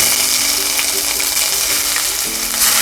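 Minced ginger and garlic sizzle in hot oil in a pan for a chicken curry, a continuous loud crackling hiss with small pops and the occasional scrape of stirring.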